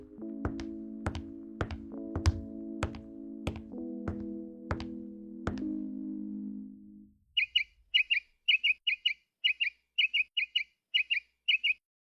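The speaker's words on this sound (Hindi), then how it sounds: "शायद यही वो जादुई चिड़िया है।" In an animated Hindi folk tale, a magic bird chirps in quick repeated bright pairs, clear and close, after a run of resonant tapping tones.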